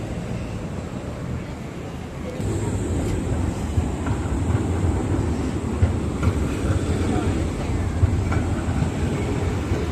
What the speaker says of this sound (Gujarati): અહીંયા બસ ને ટ્રામ ને આવતી હોય એટલે ખાસ ધ્યાન રાખવાનું